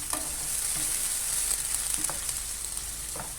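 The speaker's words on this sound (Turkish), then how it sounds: "Hemen domateslerimizi dökelim içine. Şöyle güzelce pişsinler." Tomatoes fry for menemen in a pan with peppers: a close, steady sizzle runs throughout, broken by a few soft stirring scrapes, and no one speaks.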